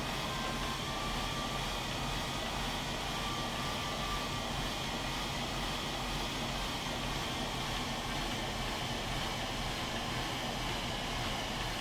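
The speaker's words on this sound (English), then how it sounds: "Because of this big jet engine on here." Large jet engine on a craft in the Warium game, a loud continuous broadband roar holding steady throughout with no talk.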